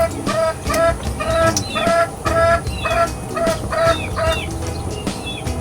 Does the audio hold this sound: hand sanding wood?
no